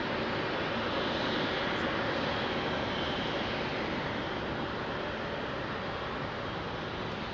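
An aircraft departs Heathrow Airport at night, a steady, even broadband engine roar that holds throughout with no voices.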